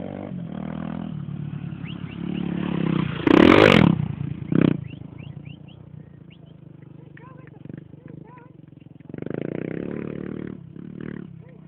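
A Honda Tornado motorcycle rides around a dirt track at Alto de Santana, its engine rising and falling as it passes, with a loud surge midway and people talking nearby.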